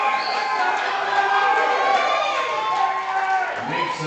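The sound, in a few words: crowd cheering a local powerlifter's deadlift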